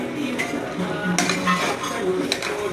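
Metal clinks and scraping of a spoon against a pot as half a kilogram of chicken goes into masala for chicken biryani, with scattered clatters and a soft sizzle underneath.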